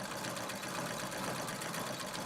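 A sewing machine stitches free-motion quilting at a steady speed held by a foot pedal, a continuous fast mechanical hum with a rapid even rhythm, close and fairly quiet.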